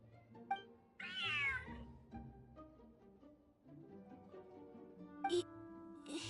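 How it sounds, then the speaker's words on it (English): A cat in the video game Genshin Impact meows, with a clear rising and falling cry, then a second shorter meow near the end, over soft game music. "Whoa, this cat is way bigger than the others."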